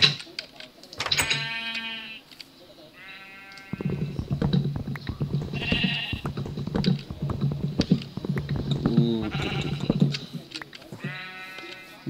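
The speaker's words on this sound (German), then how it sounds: "Und noch ein weißes Schaf mehr." White sheep in the Minecraft video game give several loud, nasal bleats in irregular bursts, some overlapping, with soft clattering game sounds between them.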